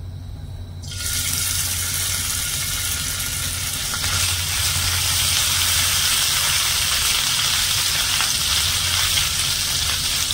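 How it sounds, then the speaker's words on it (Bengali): Chopped ginger hits hot oil in a pan and erupts into a loud, sustained close sizzle that stays strong and even for several seconds with no speech. "এখানে আমার আদাটা একটু ভাজা হয়ে গেছে"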